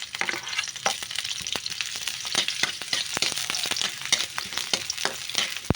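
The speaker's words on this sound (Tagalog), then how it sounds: "Lagyan lang natin ng kaunting cooking oil. Ayan, unahin natin ang sibuyas." Sliced onions frying in a little cooking oil in a pan, a bright, steady sizzle with sharp crackles and pops, close and loud, stirred now and then, with no talking.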